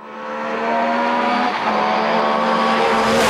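Metro 6R4 rally car driven hard on a stage of the Donegal Rally, its engine roaring loud and close as revs climb steadily, with a brief shift partway through.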